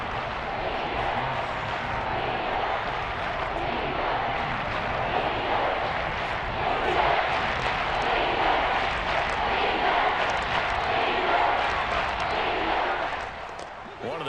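A crowd roars in a video game football stadium ahead of a big third down, a steady broad wash of cheering noise that swells slightly midway, with a commentator talking over it.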